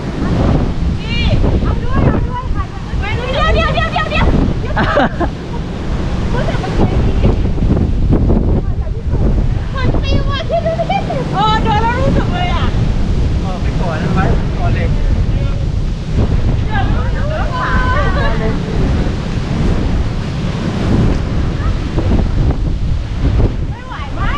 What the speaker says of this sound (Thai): ตรงนี้คือลมมันแรงมากนะครับ